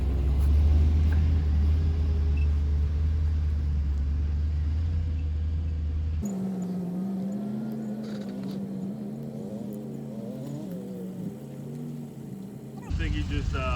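An old truck that only has reverse gear rumbles as it is driven back to the shop, a loud low engine drone first, then a quieter running engine under people talking.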